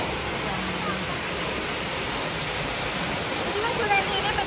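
Water gushing steadily into a large farm storage pool in rural Saudi Arabia, a continuous broadband rushing roar heard up close for the whole stretch with no pauses.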